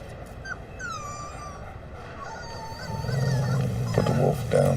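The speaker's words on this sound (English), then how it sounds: "It's a puppy. Not a puppy, a wolf." A wolf pup whimpers in high, thin, wavering whines, repeated over a noisy background that swells louder toward the end.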